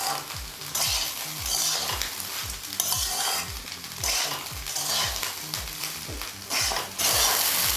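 Seasoned rice frying in a pan, a steady sizzle broken by repeated scraping strokes of a spatula stirring the grains, rhythmic and close, with no talking.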